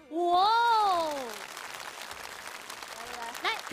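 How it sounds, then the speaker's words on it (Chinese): A studio audience at a CCTV variety show claps in a steady, moderate wash of applause that follows a loud voiced exclamation at the start, with faint voices toward the end. "掌声响起。"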